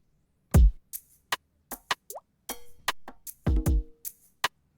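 A quantized drum pattern plays back on a Roland SP-404MKII sampler: a few deep kick thumps, sharp snare and hat hits spaced sparsely over a quiet background, with no voices.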